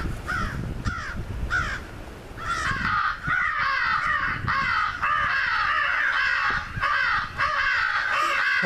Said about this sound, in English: There's more crows than I've seen around my place in a while.